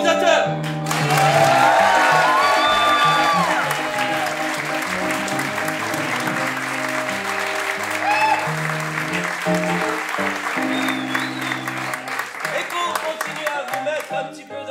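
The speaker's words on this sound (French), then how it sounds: "Veuillez accueillir et applaudir bien fort les improvisateurs." Loud crowd applause and cheering swell at the start of an improv theatre show, with music playing underneath and continuing as the clapping carries on.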